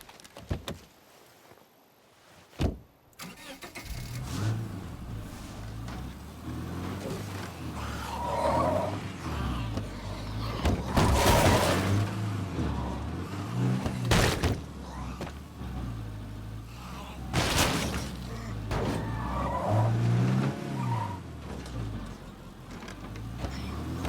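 A car driving in the zombie survival video game State of Decay 2, its engine rumbling and roaring continuously with rising and falling revs, a door thump near the start, and game music or ambience underneath.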